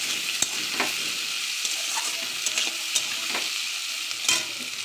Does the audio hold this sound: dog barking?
no